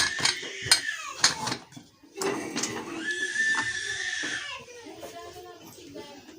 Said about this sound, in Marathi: कुकरला असं झाकण लावून